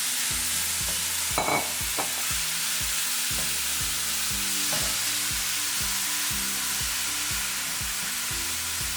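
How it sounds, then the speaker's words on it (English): Zucchini and eggplant sizzle in olive oil in a pan and are tossed, with a loud continuous frying hiss broken by repeated rhythmic scraping stirs and occasional knocks, and no speech. "Give that a nice toss to cover it in all the olive oil"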